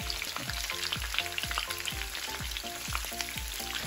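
Peppers and onions sauté in hot oil with a loud, continuous sizzle. A regular, rhythmic series of thumps, like a spatula working the pan, runs throughout and nobody talks.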